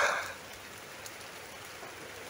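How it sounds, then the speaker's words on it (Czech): Steady rain patters softly and evenly, following a short louder splash at the very start, with no voices over it. "Dneska nemusíme lítat s hadicí. Krásně prší"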